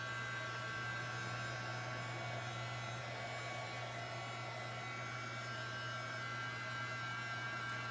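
Hair dryer blowing steadily over a birdhouse coated in chalk paint, a continuous close whoosh with a low electrical hum underneath, unbroken and alone throughout.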